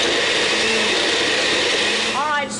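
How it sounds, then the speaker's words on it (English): A blender whirs loudly and continuously while blending sauce ingredients, a steady high motor whine that shifts pitch near the end as a voice starts speaking over it. "And we blend."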